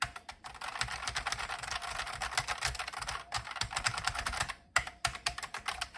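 Keys clatter on a Sinclair ZX Spectrum 128 +2B computer keyboard from 1987, a dense run of fast, close plastic key presses that keeps going for several seconds, with a brief pause near the end.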